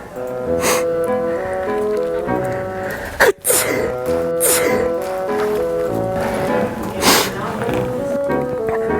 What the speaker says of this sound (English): today I'm gonna sneeze in public